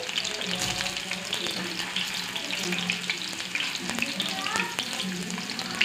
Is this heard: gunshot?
no